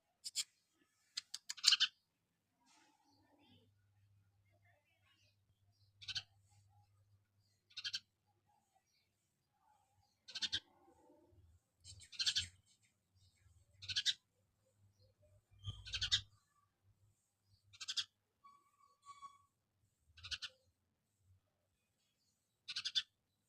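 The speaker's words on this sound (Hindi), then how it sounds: "और ऊपर चिड़िया बोला चै चै चै चै" Small bird chirping overhead outdoors near a home, short bright bursts of calls repeating every couple of seconds, fairly faint, with low background rumble and no talk.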